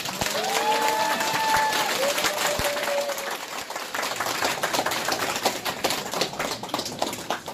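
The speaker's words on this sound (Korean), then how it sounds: "다시 한번 큰 박수 부탁드리겠습니다." Audience applause at a Korean patriotic party political rally, a loud, sustained crowd of clapping hands with a brief whistle-like tone early on, steady throughout.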